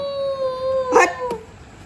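A dog gives a short, whining howl followed by a sharp bark near the middle, close to the listener and alone against a quiet background.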